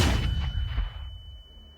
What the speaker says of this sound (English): I dropped the flashbang really close